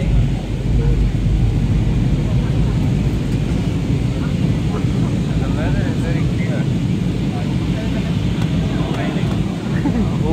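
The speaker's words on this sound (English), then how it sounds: "We are about to land in Boracay Kalibo Airport." Steady broadband airplane cabin roar as the aircraft descends toward Kalibo Airport, loud and constant throughout with a low engine rumble and no clear voices.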